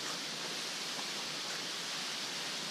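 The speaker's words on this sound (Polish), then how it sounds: "Ten wodospad." A waterfall in the Cambodian jungle pours as a steady, dense hiss of falling water, constant and fairly even, with no voices over it.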